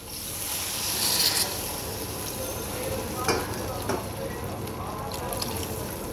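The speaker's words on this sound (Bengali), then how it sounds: "এখন আমি দিয়ে দেব ঝোলের জন্য জল" Water poured into a pan of spiced tengra fish curry base with potatoes in a home kitchen, a steady broad splashing and sizzling wash running throughout with a few brief louder bursts.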